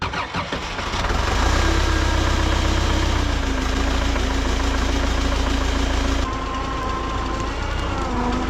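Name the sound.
engine idling in winter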